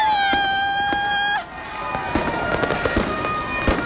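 New Year's Eve fireworks near the Colosseum in Rome: a whistling rocket rises, then a dense run of sharp bangs and crackles pops near and far over a crowd's murmur.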